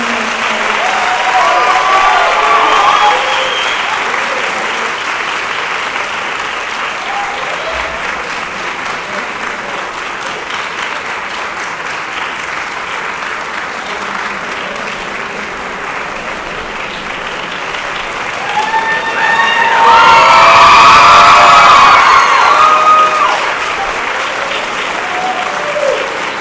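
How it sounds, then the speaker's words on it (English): A concert audience claps and cheers for Mr. Ryan Todd after his piece of music, a long, full round of applause that holds steady and then swells louder near the end before easing. "join me in giving Mr. Todd another round of applause"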